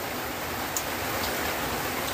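Steady rain falling on a farm garden, a dense, even hiss that stays constant throughout, with no talk or other sounds.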